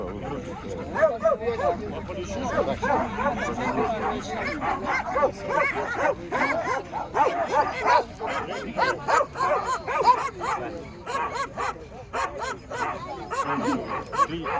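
Russian-European Laika males at a dog show bark, yip and whimper repeatedly close by, with an announcer talking over much of the commotion.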